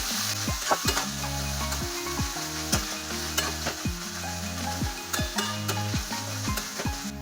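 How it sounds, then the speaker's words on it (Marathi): Capsicum and onion stir-fry on high flame for Hakka noodles: a continuous loud sizzle is punctuated by regular, rhythmic spatula scrapes and clanks against the pan, with no talking. "मस्तपैकी हे आता परतून घ्यायचं चांगलं हाय फ्लेमवरती."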